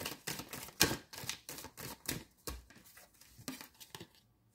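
Cards being drawn and handled from a deck during a card reading: a run of crisp papery flicks and slaps, close and fairly soft, arriving in uneven bursts before fading out.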